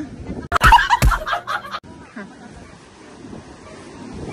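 Gusty typhoon wind and crashing surf on a storm-battered coast during Typhoon Carina, with a loud close burst of wind buffeting the microphone early on before easing into a steady broadband roar, and people talking nearby.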